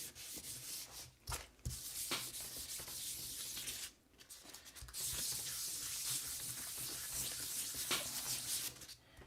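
Aluminum parts from a vintage motorcycle being polished by hand with polish and a cloth, a steady close scrubbing and rubbing that runs almost continuously, with a couple of brief pauses and no talking.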